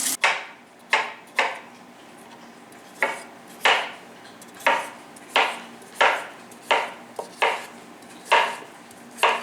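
A knife chops carrots on a cutting board for a crockpot pot roast, with a dozen or so sharp, evenly spaced thunks ringing out loud and close, and no talking.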